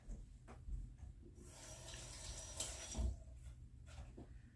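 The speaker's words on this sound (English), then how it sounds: "I'm going to take my gloves off and moisten my hands" A kitchen tap runs briefly to wet hands while cooking meatballs, a faint close splash of water with short bursts and small knocks around it, no voices.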